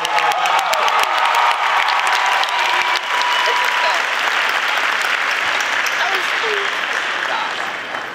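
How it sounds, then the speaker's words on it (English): An audience at a college graduation ceremony claps loudly and continuously, a dense, even wash of applause with scattered cheers that holds steady from start to finish. "Let's give them a round of applause."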